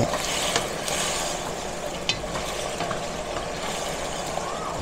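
Ampalaya (bitter melon) with beef being stirred in a pan after a pinch of MSG, a steady sizzle running throughout with a few soft scraping clicks of the utensil, close and fairly even.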